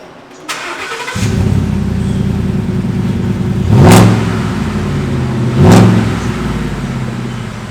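A loud 5.0 V8 engine of a 2017 Ford F150 pickup with open exhaust, tailpipe off, starts up and idles with a rough, throaty rumble, revving sharply twice in short bursts.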